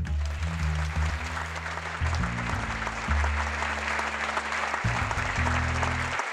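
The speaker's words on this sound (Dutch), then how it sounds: "heel hartelijk applaus voor David van Rijkbroek." An audience at a lecture-theatre event applauds a speaker, a steady broad wash of clapping lasting several seconds, with low sustained organ-like chords playing underneath.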